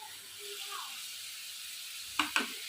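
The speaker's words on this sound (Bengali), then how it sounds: "এবার আমি এতে অল্প একটু জল দিয়ে দেবো একদম এরকম অল্প জল দিতে হবে" Water splashed into a hot pan of spiced bitter gourd curry masala gives two short, sharp sizzling bursts near the end, close and fairly loud over a quiet kitchen background.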